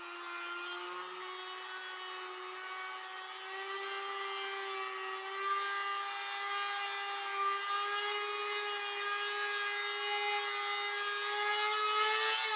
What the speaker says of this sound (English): And then we got the Dremel out with a little sanding drum on it.